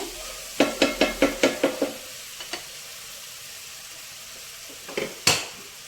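Mushroom and mixed vegetable curry with spices fries in a pan under a faint sizzle, while a spoon knocks the pan in a quick run of about seven taps, then a few more scattered clanks.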